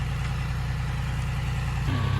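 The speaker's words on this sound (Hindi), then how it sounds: "ट्रैक्टर जुताई कर रहा खेत का" A tractor engine runs steadily in an open field while ploughing soil for potato planting, a loud continuous low drone with a slight shift near the end and no speech.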